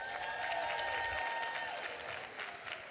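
A seated audience claps together in a steady burst of applause, fairly distant and sustained for the whole moment.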